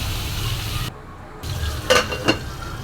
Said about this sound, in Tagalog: igisa na po natin ang sibuyas, bawang, kamatis, at syempre po di mawawala ang ating main ingredients na ampalaya